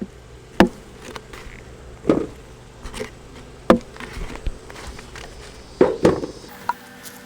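A steady insect buzz of many honey bees at a nucleus hive hums throughout, broken by several sharp knocks and thumps spaced a second or two apart.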